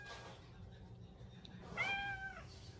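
A voice imitates a cat's meow, a single drawn-out mewing call near the end after quiet room noise, fairly faint.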